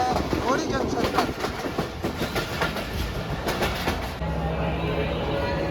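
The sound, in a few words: Pak Business Express train arriving at Rohri Junction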